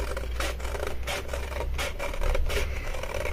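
Scissors cutting out paper for a homemade advent calendar, a steady series of rasping snips and scrapes repeating about twice a second, close and moderately loud with no talking.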